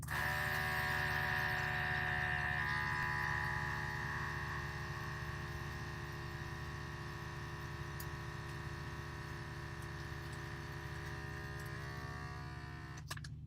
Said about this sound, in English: Little vacuum pump